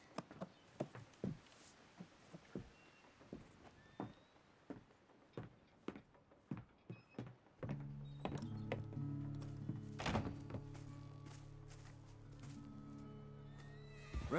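Horse in Red Dead Redemption 2: a string of separate hoof clops and thunks, then a loud, drawn-out whinny with sustained tonal layers, ending in a few more hoof sounds.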